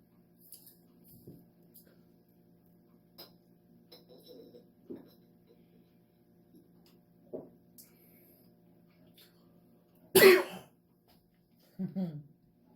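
One sharp, loud cough near the end of a quiet stretch, followed shortly by a softer throaty sound, with faint scattered noises before.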